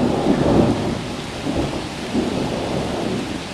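Heavy rain pours steadily during a sudden summer storm, with deep rolling thunder rumbling loud and close throughout, swelling in bursts over the constant downpour.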